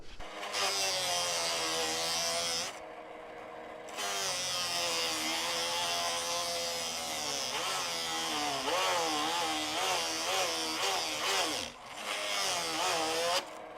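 A drill press fitted with a Forstner bit bores hinge holes into a cabinet door, its loud whine shifting in pitch as the cut deepens, with a brief quieter gap partway through and another near the end.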